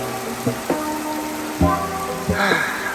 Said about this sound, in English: it's fucking raining as usual